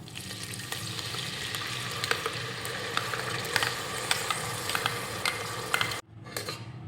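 Ground masala paste sautéing in hot oil with cumin seeds in a pressure cooker for matar masala, a steady close sizzle with scraping stirs throughout, cutting to near silence at the end before a brief resumption.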